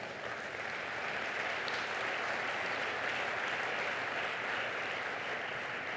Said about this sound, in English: Big applause for everyone.